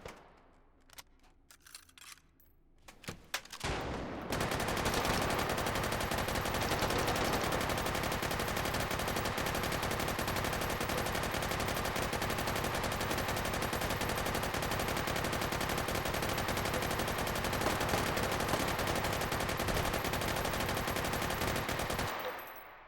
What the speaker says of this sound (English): Now this is a gun that goes on for an adequate amount of bang time.